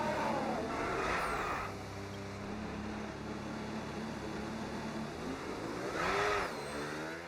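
Formula 1 race cars from the F1 26 video game drive past on the grid at the Australian Grand Prix, their engines revving in a steady mid-pitched roar that swells briefly near the start and again toward the end.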